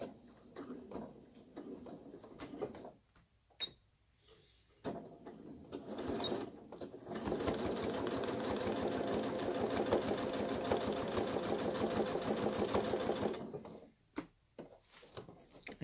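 Domestic sewing machine stitching upcycled overdyed jeans fabric, first in short stop-start bursts, then a steady whirring run of about six seconds before stopping, fairly quiet and close.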